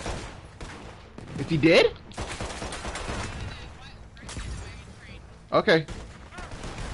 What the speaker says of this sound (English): Start firing.